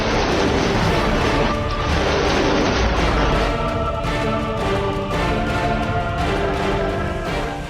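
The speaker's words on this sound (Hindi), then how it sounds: "ईरानी सेना ने अपने एयर डिफेंस मिसाइलों और रॉकेट लॉन्चर से बैटल ग्राउंड को थर्रा दिया।" Iranian air defense missiles and rocket launchers firing during a military drill: loud, dense, continuous roaring blasts and booming launches overlapping one another without pause, heavy and sustained throughout.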